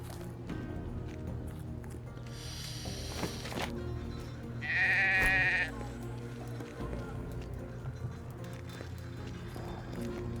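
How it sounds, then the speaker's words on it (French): Sheep in the game Drova bleat over steady ambient background sound, with a louder, sharper bleat in the middle. "Le mouton mâche une touffe d'herbe d'un air satisfait."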